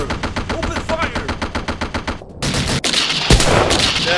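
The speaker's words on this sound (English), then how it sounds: "Open fire!" Machine gun fire in an army men stop-motion war film, a rapid, regular rattle of close, loud shots for about two seconds, then denser gunfire and explosive noise, with a voice briefly mixed in.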